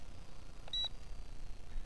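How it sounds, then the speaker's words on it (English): A Zoopa Q Cruiser 420 drone camera gives a single short, faint high beep as it takes a photo, set against steady outdoor background noise. "That beep was a photo."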